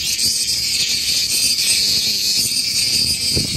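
Dense, shrill cicada chorus of a Kyushu summer in Japan, a continuous loud insect drone filling the air with no pauses and no talking.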